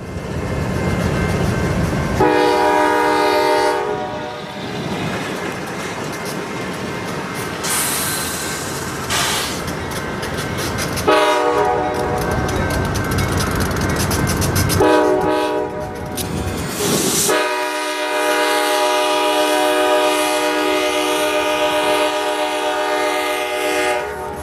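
A Canadian Pacific ES44AC locomotive leads a passing train in Detroit, sounding long, loud horn blasts in several bursts over continuous rumbling and rail noise.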